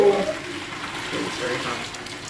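Hot water poured into a container as the first step of homemade natural wine, a steady splashing stream running throughout under a faint voice.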